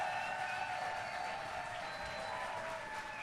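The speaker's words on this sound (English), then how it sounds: "Please make a moose round of applause with your feet, with your hands, with all of your body for Dan Corder!" A festival crowd applauds loudly and steadily for a performer stepping up at a literary festival event, with dense, sustained clapping filling the space.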